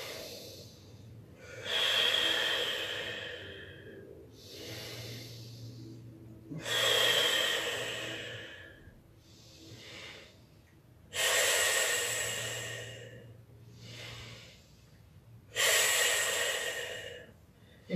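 Deep, slow breathing during a yoga practice, with four long, loud inhale-exhale cycles spaced evenly a few seconds apart, close to the microphone, with quiet pauses between them and no talking.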